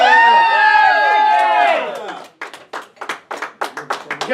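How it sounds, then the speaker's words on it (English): Comedy club audience at a stand-up comic night cheers loudly with sustained whoops and voices for about two seconds, then breaks into bursts of applause and claps that continue to the end. "Give a round of applause to Zach Zajac!"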